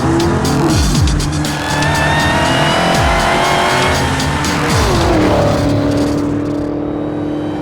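A huge, heavy car on an old chassis is driven hard along a twisting road, its engine roaring loud and close while the tires squeal through several corners, with the revs rising and falling throughout.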